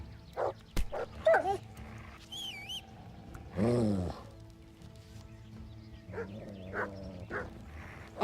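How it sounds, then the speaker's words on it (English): A wolf in a video game gives dog-like barks, yips and whimpers in short scattered bursts against quiet game sounds and music. "Oh, that's a weird wolf. That's a dog."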